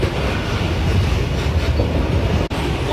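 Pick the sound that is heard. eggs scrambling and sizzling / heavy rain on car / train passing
train passing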